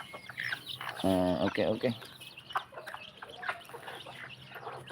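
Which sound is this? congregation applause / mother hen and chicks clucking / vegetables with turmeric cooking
mother hen and chicks clucking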